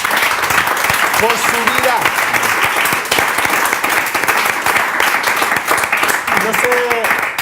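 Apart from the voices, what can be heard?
church congregation applauding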